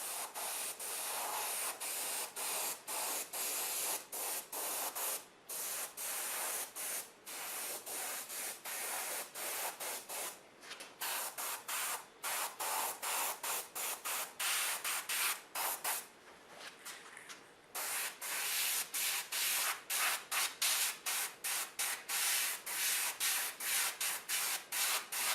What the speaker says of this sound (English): I just do that on the nose in each one before I go to airbrush